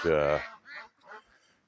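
Ducks quack close by in a large coop: one loud, drawn-out honking quack followed by a few shorter, fainter quacks.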